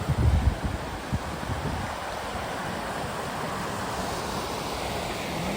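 A steady, broad rush of water pouring over a low dam on the Greenway Trail in Waynesboro, Virginia, constant and fairly loud, with a few thumps at the very start.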